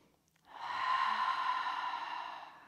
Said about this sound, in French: Grande expire par la bouche